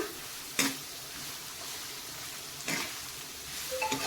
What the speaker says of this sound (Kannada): ಈ ಥರ ಎಣ್ಣೆಯಲ್ಲಿ ಎಲ್ಲವನ್ನು ಚೆನ್ನಾಗಿ ನಾವು ಫ್ರೈ ಮಾಡ್ಕೋಬೇಕು ಈಗ ಬೀನ್ಸ್ ಹಾಕ್ತಾ ಇದ್ದೀನಿ ನೋಡಿ